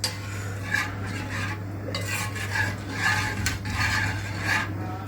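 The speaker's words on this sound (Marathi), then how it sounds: "थोडा वेळ ढवळत बसावं लागतं" Spoon steadily stirring yogurt kadhi in a metal pot, close rhythmic scraping and soft clinks over a low steady hum, with no talk.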